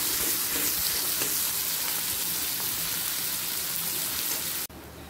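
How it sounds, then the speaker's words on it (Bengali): Onions sizzle in a pan for shrimp curry, a close, steady crackling hiss with faint stirring that runs evenly and then drops away sharply just before the end. "পেঁয়াজটা হালকা লাল করে ভাজা হয়ে গেছে।"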